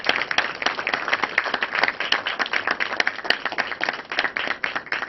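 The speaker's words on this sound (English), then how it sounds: "please give him a warm applause for his willingness" An audience at a talk for New York students breaks into steady, dense applause, many hands clapping continuously and fairly close for the full few seconds, with no voices over it.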